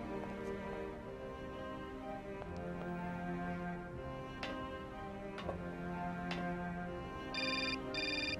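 Telephone in the Syberia adventure game rings with a bright electronic double trill near the end, over steady tonal background music with a few sharp ticking clicks.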